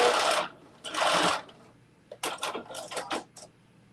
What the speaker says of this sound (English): Do a quick little back stitch.